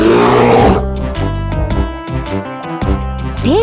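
In a cartoon zoo, a bear lets out a loud, close roar first, followed by a bright, cheerful musical jingle.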